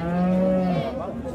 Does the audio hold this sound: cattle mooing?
yes